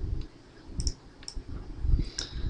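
A computer mouse clicks several times in quick, light taps, close and fairly soft against faint background noise.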